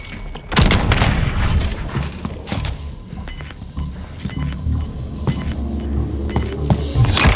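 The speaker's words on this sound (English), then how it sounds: "Throwing grenade." A grenade detonates with a loud, deep boom in the battle royale shooter Call of Duty Warzone, followed by thuds, scattered impacts and a faint repeating electronic beep in the background.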